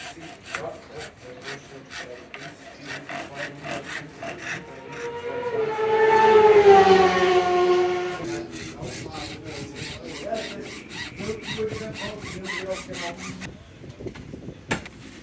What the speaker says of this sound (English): Oh, you're just going to deburr it? Just take the edges off it.